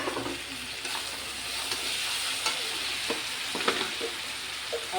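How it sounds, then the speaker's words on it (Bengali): Chopped raw tomatoes go into chicken frying in a pan, making a loud, continuous sizzle with frequent scraping and stirring strokes. "এবার এর মধ্যে কেটে রাখা কাঁচা টমেটোটাও দিয়ে দেবো"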